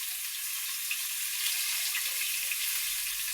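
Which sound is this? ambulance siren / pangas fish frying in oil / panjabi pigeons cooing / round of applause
pangas fish frying in oil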